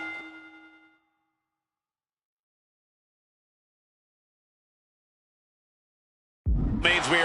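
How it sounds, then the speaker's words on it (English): A boxing ring bell in the wrestling game WWE 2K26 gives one bright, ringing strike that decays within a second. A long silence follows before a commentator's voice comes in. "The sound of the bell."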